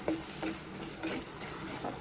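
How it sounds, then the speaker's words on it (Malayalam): Onion, ginger, garlic and chili sautéing with chili, coriander, turmeric and fenugreek powders in a pan, a steady close sizzle broken by a few stirring scrapes. "അപ്പോൾ ഇതിനാവശ്യമുള്ള മുളക് പൊടി, മല്ലിപ്പൊടി, മഞ്ഞൾപ്പൊടി, ഉലുവാ പൊടി ഇട്ടിട്ട് വഴട്ടാൻ കേട്ടോ"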